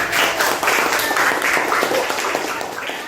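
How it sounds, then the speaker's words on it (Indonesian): Classroom of students applauding a classmate, steady, fairly loud group clapping that runs continuously for about three seconds without talk. "Tepuk tangan untuk Putri."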